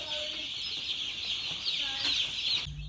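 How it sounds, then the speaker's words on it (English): A new batch of tiny chicks, newly arrived, cheeping in a continuous dense chorus of high peeps that stays steady and fairly close before cutting off abruptly near the end. "New chicks are doing fine."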